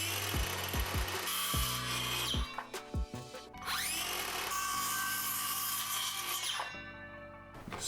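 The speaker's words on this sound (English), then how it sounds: "Now I'm also just gonna freestyle cutting this piece here." Power tool cutting a piece of wood freehand, a loud whining buzz that starts and stops in short bursts, then runs steadily for several seconds before cutting off near the end.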